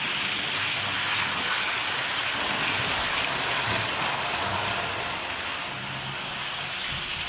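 An OO gauge model train runs on a layout close by, a steady rolling rumble with a faint rhythmic clatter of wheels on track throughout.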